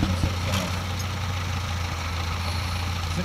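An old tractor engine runs at a 4H tractor pull, a steady, low, rumbling idle that stays close and even throughout, with no talk.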